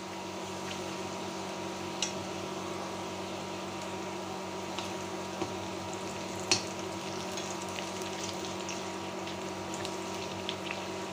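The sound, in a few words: onions frying in oil in a wok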